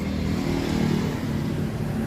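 A Honda Supra 125 motorcycle bored up to 190 cc with a PWK 30 carburettor runs steadily nearby, its loud engine holding an even, throaty idle with no speech.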